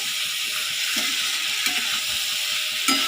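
Cucumbers stir-fried with spices in a pan give a continuous loud sizzle, with a few soft stirring clacks under the hiss.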